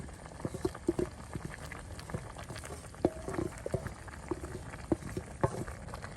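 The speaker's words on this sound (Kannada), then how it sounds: "ಒಂದು 5 ನಿಮಿಷ ಮಸಾಲೆ ಜೊತೆ ಇದು ಬೇಯಲಿ." Mangalorean-style chicken sukka simmers with a red masala in a pan, giving a steady low bubbling and sizzling with small pops and clicks throughout, close and moderately loud, with no talking.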